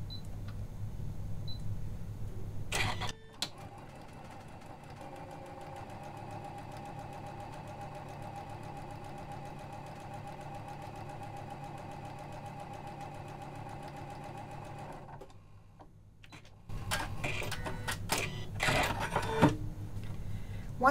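Janome sewing machine running a seam with a 9mm lap-seam foot, a steady close whirring stitch hum lasting about twelve seconds that stops abruptly, framed by handling clatter and a voice speaking.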